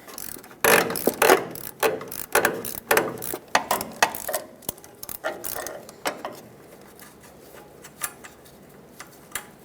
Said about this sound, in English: stick a ratchet down there and just spin the nut